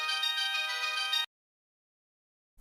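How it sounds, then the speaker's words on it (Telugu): A mobile phone ringtone from a Telugu TV serial plays a bright, steady electronic melody for just over a second, then cuts abruptly to silence. "నీలాంబరి ఫోన్ చేస్తుందేంటి?"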